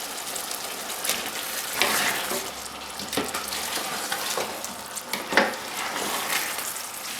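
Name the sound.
lamb shanks frying in blended sauce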